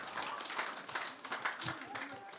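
Church congregation applauding during a sermon, a brief burst of scattered claps in a large room with a voice talking over it.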